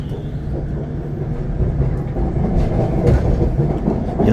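Bangkok Skytrain car running between Asoke and Siam stations, a steady rolling rumble with rail clatter and a few sharp clicks, growing slightly louder toward the end, heard from inside the train.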